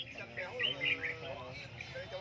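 Caged songbirds at a bird market give bright, repeated chirps and trills over a busy background, with people talking nearby throughout.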